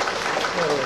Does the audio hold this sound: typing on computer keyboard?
no